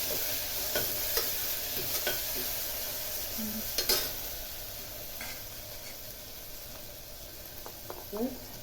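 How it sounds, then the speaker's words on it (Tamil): Tomatoes with salt sautéing in a pan, a continuous soft sizzle broken by scattered spoon scrapes and clinks against the pan. Fairly quiet and close, with a few faint voice-like sounds near the end. "கொஞ்சம் சால்ட்டு சேர்த்தோம்னா சீக்கிரமாக வதங்கும் தக்காளி"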